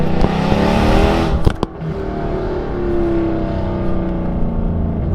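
Mercedes C63 AMG V8 revving loudly up close, a deep rising engine roar with a sharp blip partway through, then a sustained steady drone at high revs, with no talk over it.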